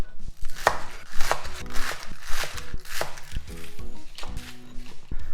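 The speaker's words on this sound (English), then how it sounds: "Then I'm gonna cut it up to about 5 to 6 centimeter pieces." Repeated knife chops cutting a vegetable into 5–6 cm pieces on a cutting board for kimchi, a steady run of sharp close thuds against the board with no talking.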